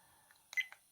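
A few short electronic beeps from a dashcam menu setting, one brighter tone in the middle followed by a softer blip, quiet and close with no talking.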